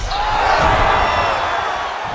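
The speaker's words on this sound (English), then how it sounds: "Crowd may be drunk, but they're absolutely loving it." Steady roar of an arena crowd cheering and whooping during a UFC bout in EA Sports UFC 5, a dense continuous wash of noise held at even loudness throughout.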